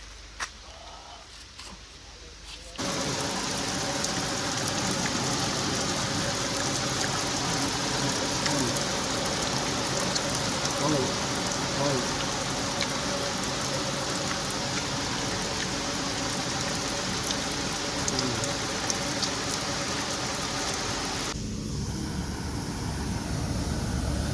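Heavy rain pouring down outdoors near a rice mill, a dense steady roar of water that starts abruptly and continues for nearly twenty seconds before cutting back to quieter surroundings.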